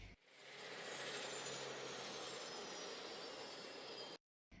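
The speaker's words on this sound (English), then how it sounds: "an engine shutting off, and you can hear it now" A steady, loud airplane engine roar fills the air as a sound effect, then cuts off abruptly to near silence just before the end.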